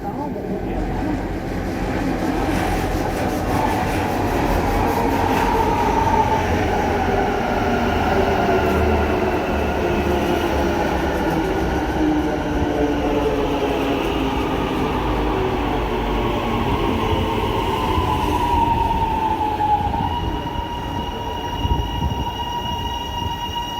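An electric suburban train passes through Clayton Station in Melbourne, with a loud, sustained rumble of wheels on rail, rising and falling whines and a few squeals as the carriages roll by.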